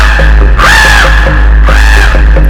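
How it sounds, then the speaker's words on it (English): Two loud, drawn-out caws from a crow in an animated fable, each harsh call rising and falling over a constant low hum, spaced about a second apart. "he heard the crow"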